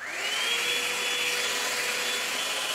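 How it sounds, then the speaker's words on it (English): A hair dryer blowing hot air while drying hair, a loud, steady whooshing whine that spins up quickly at the start and then holds a constant tone. "I use this to, not flat iron, to blow dry my hair out"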